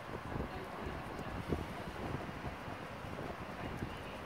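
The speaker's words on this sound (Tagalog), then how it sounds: "Talagang dinig mo yung kagupit ng malakas na hangin sa mga puno." Strong typhoon wind in Korea roars steadily through trees and overhead wires, a continuous broadband rush with gusty swells and small bursts, buffeting the microphone throughout with no clear speech.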